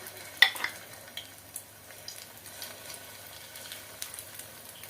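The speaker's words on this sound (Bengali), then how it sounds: "মানে হচ্ছে তেলের পিঠা ভাজা হচ্ছে।" Oil pitha cakes frying in hot oil, a quiet bubbling sizzle with scattered clicks and taps of a utensil, the first one sharp and close, otherwise soft and steady.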